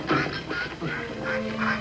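A live wild duck quacks in a series of short, nasal bursts, close and fairly loud, with brief gaps between the calls.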